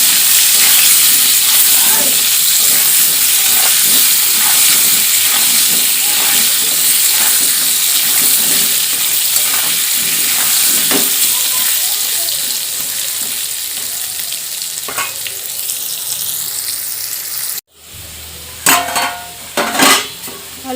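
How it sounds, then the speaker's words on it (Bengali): Potatoes frying with salt and turmeric in oil, browning for a chicken curry: a steady, loud sizzle with scattered stirring clinks, which drops off abruptly before a few closer pan knocks at the end. "খুব ভালোভাবে আলুগুলো ভেজে নেব।"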